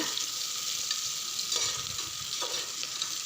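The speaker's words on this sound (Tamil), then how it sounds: "நல்லா ஃப்ரை பண்ணுங்கள்." Rice and lentils fry in a pan for Kongu-style arisi paruppu sadam, a steady close sizzle with occasional stirring scrapes and brief louder spatters, no voices.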